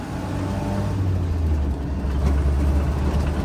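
A Land Rover Series 2a engine pulling hard along a country lane, a steady low droning rumble with rising intake and road noise, loud and continuous from inside the vehicle, no voices.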